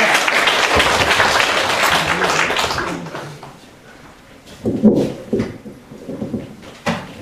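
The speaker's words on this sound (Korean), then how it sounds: "자, 박수로." Applause from a church congregation welcoming a guest preacher at a Korean revival meeting, a dense burst of clapping for about three seconds that fades out, followed by quieter thumps and a few voices.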